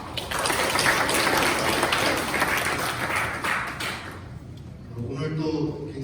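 An audience at a public hearing on Cheongju's 2040 urban master plan claps for the research team, a hall-filling burst of applause for about four seconds that fades as a voice begins speaking.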